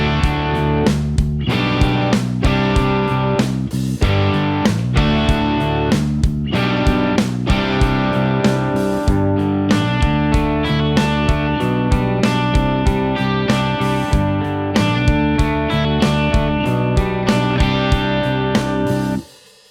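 An overdubbed electric guitar, an Ibanez Artist AR620, plays rhythmic chords in a full mix with drums and bass, steady and loud throughout with regular beats, ending abruptly.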